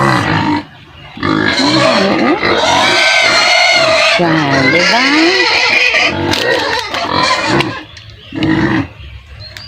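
Pigs grunt and snort in rough bursts close by, mixed with people talking over them.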